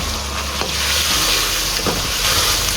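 A boiled onion and tomato paste going into a hot pan of chicken jalfrezi, with loud, continuous sizzling and frying and a few soft stirring scrapes, close up and without talk.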